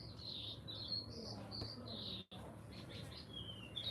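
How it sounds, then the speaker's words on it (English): Birds chirp and tweet outdoors on a sunny day, several high calls repeating over a soft steady background hiss, moderately distant, with no one speaking. "Like just chilling with the birds outside."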